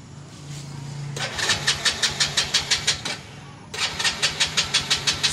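A motorcycle that rarely starts is cranked over again and again with its electric starter. Two runs of rapid, even chugging are broken by a short pause, and the motor never catches. No one speaks.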